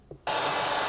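A heat gun switches on and blows a steady, loud, breathy whoosh while shrinking heat shrink tubing onto a battery cable during an Audi RS6 remote battery fitting, starting abruptly after a brief quiet moment.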